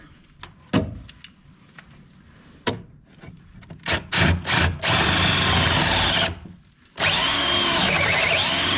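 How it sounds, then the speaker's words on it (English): Auger bit driven by a power drill through wood framing during house rough-in, opening with scattered knocks and short bursts, then a loud sustained grinding bore that stops briefly and resumes, close up. "Let's see what this auger does."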